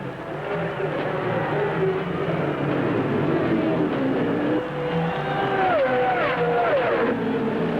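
Race cars lapping in heavy traffic at the 1979 Indianapolis 500, engines droning loudly with rising and falling pitches as cars pass and shift, a continuous roar of several machines under a commentator's voice.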